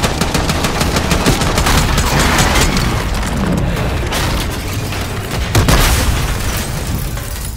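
Gunfire in a Call of Duty Black Ops 6 shootout: loud, sustained bursts of rapid automatic fire mixed with heavy booms and sharp pops, continuous and close throughout.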